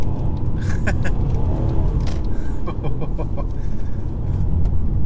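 A 2013 Mercedes C350 diesel accelerates hard from inside the cabin, a loud continuous engine roar with some higher whining and chirping tones over the top.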